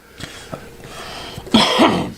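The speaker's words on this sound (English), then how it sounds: "Let me clear my throat." A short, rough throat-clearing burst near the end, preceded by a few faint clicks and small noises in an otherwise quiet room.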